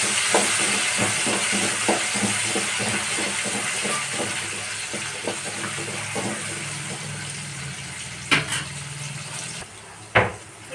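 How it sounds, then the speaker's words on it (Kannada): Onions and spices fry in a pan for a soya chunks gravy, a loud close sizzle with rhythmic stirring scrapes, and two sharp clanks near the end. "ಈಗ ಅದಕ್ಕೆ ಎಲ್ಲ ಫ್ರೈ ಆಗೈತೆ ರೀ"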